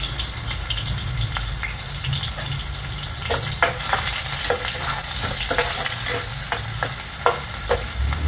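Onion sizzles loudly in about one and a half spoons of hot oil in a pan, a steady close frying hiss with scattered crackles and stirring scrapes, and no talk.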